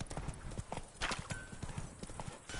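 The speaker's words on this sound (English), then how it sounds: "Obviously there's a horse coming down the path." Horse hooves clip-clop along a path in the game The Witcher 3: Wild Hunt, a quick steady rhythm of soft hoofbeats, fairly faint, with a brief whinny-like sound and voices faintly underneath.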